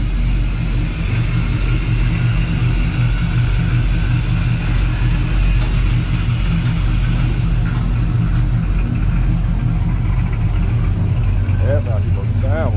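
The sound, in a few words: ice hauler truck engine idling with new muffler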